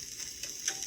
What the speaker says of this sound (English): I just wanted to mix the turmeric in it first and the garlic